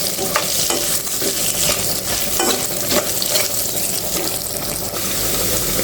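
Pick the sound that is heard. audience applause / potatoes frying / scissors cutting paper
potatoes frying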